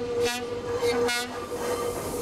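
Cruise train departing Quito in the Andes sounds two loud horn blasts, each lasting a fraction of a second, over a steady rumble of rail noise.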